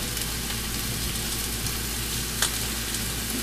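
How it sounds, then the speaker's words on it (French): Pieces of pork chop fat crackle and sizzle in a frying pan, a steady close frying hiss with a single sharper pop partway through and no talking. "pendant que grésille ou crépite ce qui est les pièces de gras"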